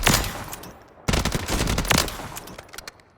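Automatic gunfire bursts from a weapon in the Warzone video game firing range, loud and rapid, with a short pause between two sustained volleys and no talk.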